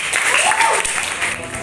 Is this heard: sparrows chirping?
no